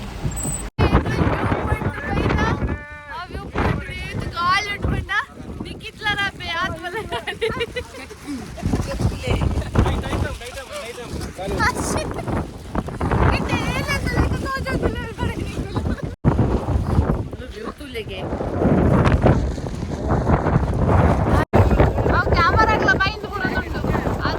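Strong gusty wind in forested Coorg buffets the microphone continuously while people talk over the roaring, rushing air.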